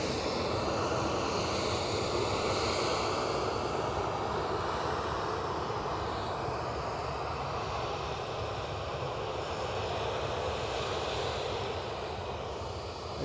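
Ryanair airliner engines at Edinburgh airport, a steady loud broadband roar that holds level throughout with slight swells, no voices over it.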